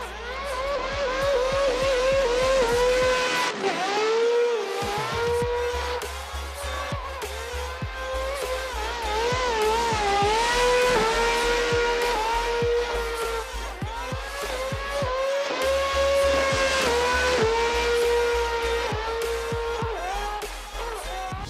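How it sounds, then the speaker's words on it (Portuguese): A high-powered 2JZ-engined drift car in Assetto Corsa howls through a drift, its engine note rising and falling with clutch kicks while tires squeal continuously, with two brief drops in revs between sustained loud passages. "Eu dou um chute na embreagem pro carro fazer a transição para ele fazer mais agressivo"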